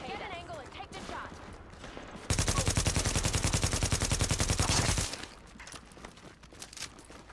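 Sustained rapid automatic gunfire aimed at Rikers in The Division erupts loudly for a few seconds in a dense, even stream, with quieter shots and voices before and after.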